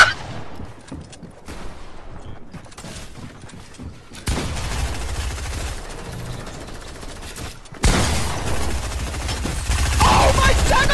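Gunfire in Fortnite, bursts of shotgun and rapid weapon fire rolling in loud layered volleys that grow denser and louder toward the end, with game sound effects throughout and no talk.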